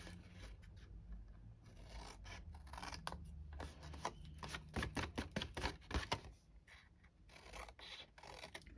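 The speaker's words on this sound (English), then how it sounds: "I think I might need a new blade in my trimmer soon. That one's skagging a bit." A paper trimmer blade slicing through cardstock, the dull blade dragging with a rough, scratchy rasp in several short strokes, fairly close and quiet, with no talking.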